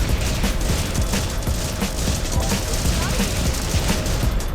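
A bot's weapon firing repeatedly in the video game Cosmic Break Universe, a steady volley of loud shots continuing throughout, with a voice talking over the shooting.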